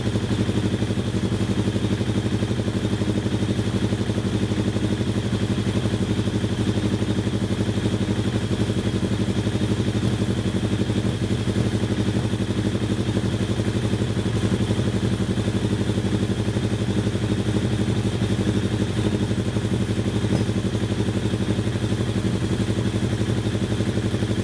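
A Suzuki GSX-R 1100 motorcycle engine, 136 hp, idles steadily after a restart, a continuous loud mechanical drone with light clatter that holds unchanged throughout, with no talk.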